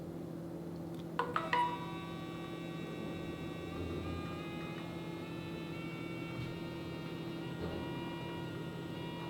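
Nano 3.0 sous vide machine running with a steady, quiet whine and hum over a faint background, a few small clicks near the start, with no talking.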